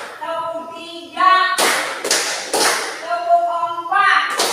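Students in a classroom clap in sharp, separate bursts of one, two and three, loud and close, while a voice chants the counts between the claps.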